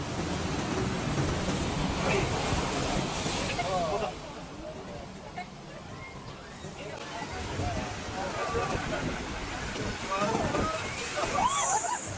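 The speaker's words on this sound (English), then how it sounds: "So we're just going on Popeye's River Rapids" Water sloshing and splashing on the Popeye's River Rapids raft ride in Florida, a continuous rushing, churning wash with bursts of spray, loud and close, with voices talking and calling out over it throughout.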